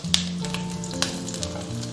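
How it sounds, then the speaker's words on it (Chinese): Homemade crispy pork sausages pan-frying in a thin layer of oil over medium-low heat, a continuous close sizzle and crackle with a few sharp pops, no one speaking. "然后下入脆皮肠，中小火煎"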